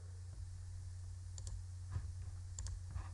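Faint computer mouse clicks while selecting a sell button in a stock trading app, a few soft sharp ticks spaced over a quiet low electrical hum, with no talking.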